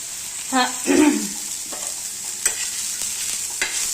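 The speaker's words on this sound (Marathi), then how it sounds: "कांदा पण आहे ना ब्राऊन कलर होईपर्यंत भाजायचा आहे" Chopped onions frying in a pan for an egg curry and being stirred: a steady, close sizzle runs throughout, broken by a few short scraping strokes early on and brief clinks later.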